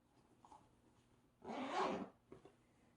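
A single zipper on a Coach Edie shoulder bag pulled along for about half a second, a smooth rasping slide, close and clear against quiet surroundings.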